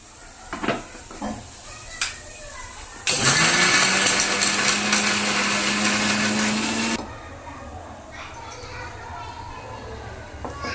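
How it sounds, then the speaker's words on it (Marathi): An electric mixer grinder grinds masala for dal karela, a loud, steady whirring roar lasting about four seconds, with kitchen clinks before it and quieter clatter after it stops. "आपण इकडं मसाला मिक्सरमधून दळून घेऊया"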